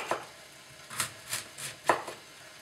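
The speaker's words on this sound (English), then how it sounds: "I'm going to just chop it as thin as I can into strips" A knife chops fennel into thin strips for fish stew, giving about five crisp, close cuts against a board at an uneven, unhurried pace, with no talk.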